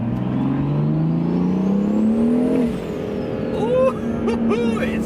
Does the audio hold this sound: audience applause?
no